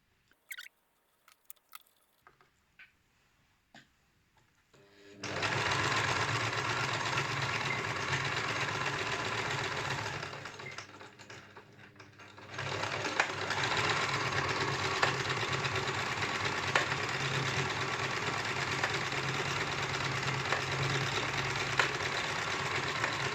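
A household sewing machine runs in steady fast bursts while stitching cord. A few soft clicks come first, then a close, continuous whirring hum that pauses briefly and resumes.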